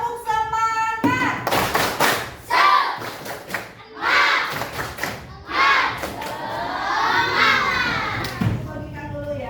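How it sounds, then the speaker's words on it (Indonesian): A classroom group of children performs a spirit clap, with bursts of clapping mixed with shouted chanting voices in rhythmic group calls, loud and close, alongside a teacher's voice. "Tepuk semangat!"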